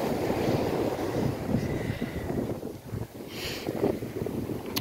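Gusty wind on Gorleston beach rumbles against the microphone over a constant wash of surf, loud and unbroken, with no one speaking.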